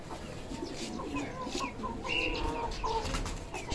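Bantam chicks cluck and chirp busily nearby, with a flurry of wing flaps and other bird calls mixed into a lively outdoor scene.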